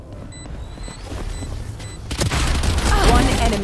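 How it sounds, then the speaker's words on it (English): Swarm grenade exploding in Valorant: a quiet stretch with faint electronic beeps, then a loud burst of rumbling, crackling blasts filling the last second and a half, with a voice in the mix. "Placing swarm grenade. Fire in the hole."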